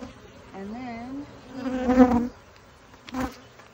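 Honey bees buzz during a hive inspection, a wavering drone that swells in two louder bursts as the insects fly close, with a few faint human sounds in the background.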